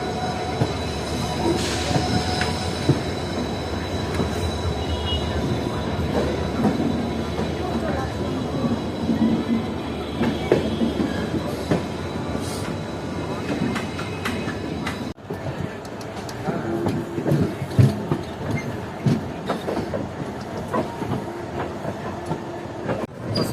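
The Howrah–Malda Town Intercity Express departs, rumbling and clattering steadily along the tracks, with wheel squeals and rhythmic clicks over a low mechanical drone throughout.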